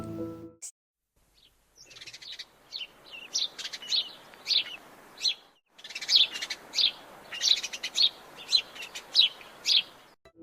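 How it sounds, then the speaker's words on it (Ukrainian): A house sparrow chirps repeatedly in quick, bright bursts, close and clear, with a brief pause before the chirping resumes in a steady rhythm. "Послухайте малята, як співає горобчик."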